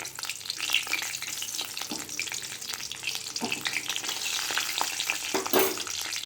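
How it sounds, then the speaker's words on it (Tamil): Chillies frying in oil in a kadai, a close steady sizzle with scattered stirring scrapes and clinks, no talk. "அதில் இந்த மிளகாயை வறுத்துக்குவோம்."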